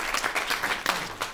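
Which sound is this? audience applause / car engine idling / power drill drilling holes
audience applause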